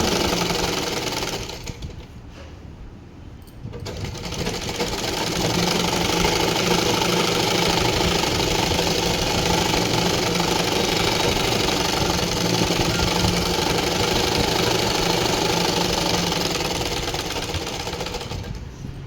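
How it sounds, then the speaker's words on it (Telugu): An electric sewing machine stitches a waist belt onto a blouse, a steady, loud mechanical whirr running continuously for most of the stretch after a brief pause near the start. "దాని మీద కుట్టేస్తున్నాం ఇటు సైడ్ పీస్ మీద పడద్దు నడుము బెల్ట్ మీదనే పడాలి"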